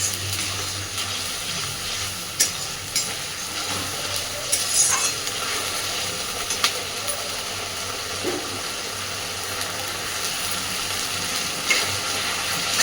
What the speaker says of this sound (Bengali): মশলাটাকে সুন্দরভাবে কষে নেব।